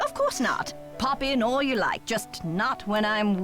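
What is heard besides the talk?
None of the usual background noises is heard.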